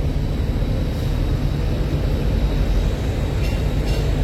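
The MV Sundarban-12 passenger launch pulls away from the riverside dock, its engines making a heavy, steady low rumble that fills the scene at close range.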